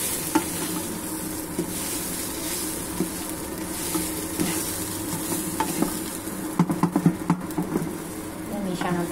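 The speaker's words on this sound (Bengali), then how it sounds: "চালটা ভালো করে মিশিয়ে নিব।" Fried rice and chicken for chicken biryani are stirred in a pot, a loud, busy mix of sizzling and scraping with a cluster of sharp spoon knocks near the end, and no talking.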